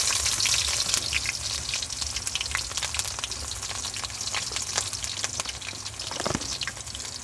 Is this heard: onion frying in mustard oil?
yes